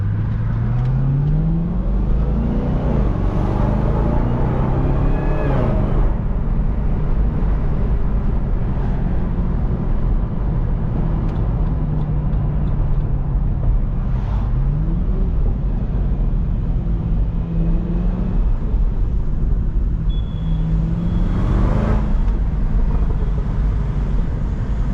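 Supercharged Cadillac CTS-V driving at midday, heard from inside with a steady loud drone and rising and falling whine as the engine revs up and eases off over and over.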